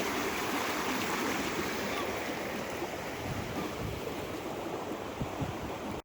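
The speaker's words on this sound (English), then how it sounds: "Got some water definitely gushing down this channel, which will meet up with Kids Creek and form a super creek." Rain-swollen water gushing down a creek channel in a park on a rainy morning, a steady, broad rushing wash that holds constant throughout.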